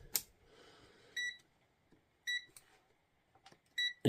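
A multimeter set to test across battery terminals gives several short, bright electronic beeps spaced a second or so apart, with faint handling clicks between them in a quiet room.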